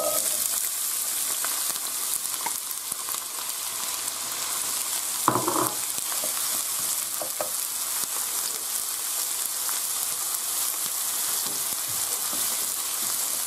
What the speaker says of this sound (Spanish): ahora rehogamos la cebolla